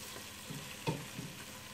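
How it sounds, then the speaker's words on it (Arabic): Chicken coated in spices fries in a pot for chicken kabsa, a faint, steady sizzle broken by a soft scrape or two as it is stirred. "وحتى لا تحترق البهارات فأنا أضعها على الدجاج، بعدها أحرك"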